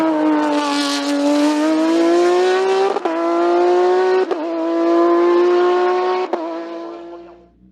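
A Norma M20 F 3-litre race car in the CN3 class climbs the Marchampt hill in Beaujolais, its engine howling loudly and steadily at high revs, with three brief sharp dips as it shifts through the gears.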